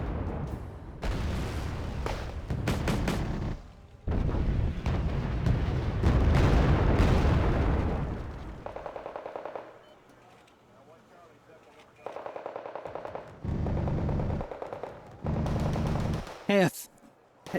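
Gunfire and rocket fire in the Wargame Red Dragon strategy game come as dense bursts of loud blasts and rumbling explosions, separated by quieter gaps, with a sharp rising whoosh near the end.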